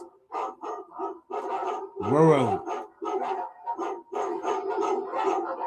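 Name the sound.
dogs barking and howling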